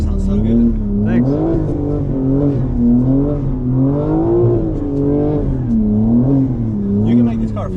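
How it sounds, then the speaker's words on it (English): A 2024 G82 BMW M4 Competition xDrive engine heard from inside while driving, a steady deep drone that swells and eases with speed changes, mixed with road noise and people talking. "This car sounds so good."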